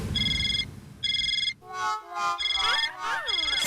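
A phone ringtone chirps in repeated bursts, then melodic electronic tones sweep up and down, fairly loud with faint background noise.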